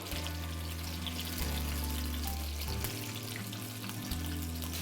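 Mutton ribs for Kashmiri tabak maaz frying in a pan, a steady close sizzle and crackle running throughout with a low hum beneath, no talking.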